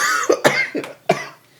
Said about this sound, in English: I'm laughing and coughing at the same time